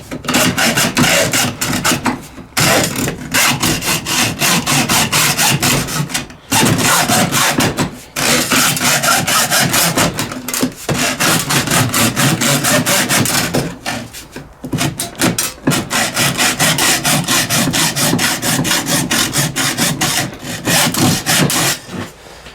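An aggressive hacksaw blade cuts open a diesel fuel filter with loud, close, rapid back-and-forth strokes, running steadily with brief pauses between bursts.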